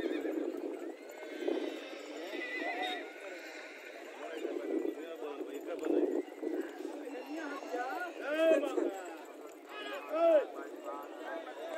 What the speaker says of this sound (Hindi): ये घोड़ी का चलावा कैसा लग रहा है